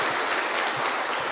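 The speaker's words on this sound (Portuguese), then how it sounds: "Aplauda o Senhor" Congregation applauding in a church service, a dense, steady wash of many hands clapping at close range, loud and continuous with no speech on top.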